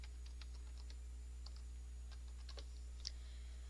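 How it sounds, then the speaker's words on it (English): Soft keystrokes on a computer keyboard as a password is typed during Windows XP setup, a few scattered quiet taps over a steady low hum. "Type in your administrator password."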